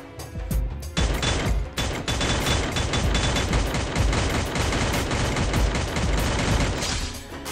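Sustained rapid gunfire from a shooter in the battle royale game Free Fire, loud and dense, with continuous bursts of shots running almost unbroken for several seconds and no talk over it.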